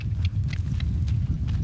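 A quarter horse carrying a rider clip-clops at a steady, quick rhythm of close hoof beats over a low rumble.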